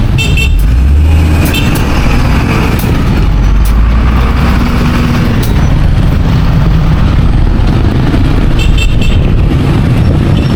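Busy street traffic in Iba, Zambales, with a steady loud rumble of trucks, cars and buses passing close, occasional horn toots, no voices.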